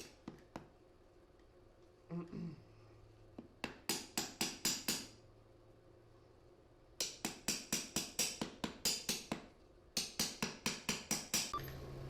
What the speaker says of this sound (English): I'm just going to use wire cutters to trim off most of it and paint it over.